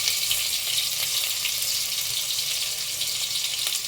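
Oil seasoning for chicken biryani, with bay leaf, a little garam masala and onion frying together in a pan, a loud, dense, continuous hiss and sizzle heard up close without any voices.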